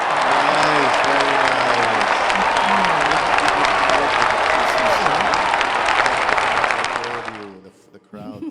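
Loud crowd applause and cheering at a live music performance, dense continuous clapping with whoops and a sung or spoken voice over it, fading out near the end.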